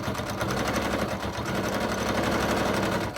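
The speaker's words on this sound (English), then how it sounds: "when I top stitch, I use the first guide marker there, that first little notch in the foot right there" A sewing machine runs a continuous top stitch along fabric for a wallet, a close, steady rapid whirring hum with even mechanical pulsing and no speech.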